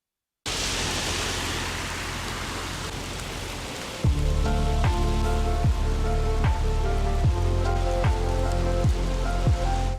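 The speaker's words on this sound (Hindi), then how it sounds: "मुल्क के बेशतर इलाकों में बारिश का सिलसिला जारी है।" Rain falls during widespread rainfall across regions including KPK and Punjab, a steady dense hiss heard alone before rhythmic music with descending tones comes in over it.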